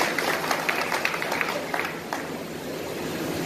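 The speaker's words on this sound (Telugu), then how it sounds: "మీ అందరితో మరొకసారి గట్టిగా చప్పట్లు కొట్టి" An audience applauds at a meeting, with dense, steady clapping that holds at a fairly even loudness for the whole stretch and shows scattered sharper claps near the front.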